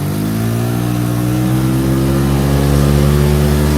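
A 1986 EZGO golf cart engine revs steadily and loudly up close, its rising harmonic drone climbing slightly in pitch as it holds a high idle for the full stretch, with no voices over it.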